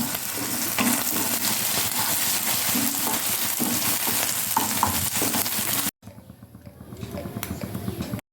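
Potato and onion sizzle loudly in oil in a frying pan, with stirring scrapes and a voice talking over the cooking, before a brief cut to a quieter, softer sizzle.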